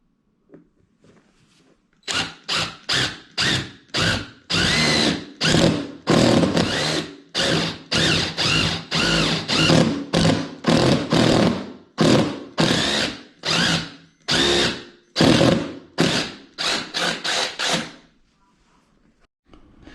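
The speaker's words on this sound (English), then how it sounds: "I'll drill one hole, and then we can drop this in and just make sure that it is straight." A power drill bores a hole for a stair railing on a landing, running in roughly two dozen short, loud bursts with brief pauses between them, close by and alone.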